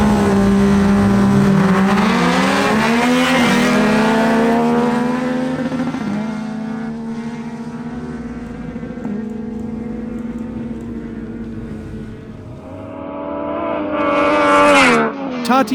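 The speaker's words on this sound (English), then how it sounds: "Tatiana Rosenthal on her Yamaha MT-09 races against Albiro Orozco on his Yamaha MT-09." Two Yamaha MT-09 motorcycles at a drag race, a loud sustained engine roar climbing through the gears as they pull away, fading slightly before a final rising rev near the end.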